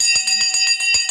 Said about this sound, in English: bell's gone.